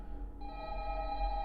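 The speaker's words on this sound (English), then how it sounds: "we can just kind of keep the phone ringing" Telephone ringing in the horror video game Five Nights at Candy's 2, a steady electronic ring with sustained tones that swell in after a brief pause and continue unbroken, fairly quiet.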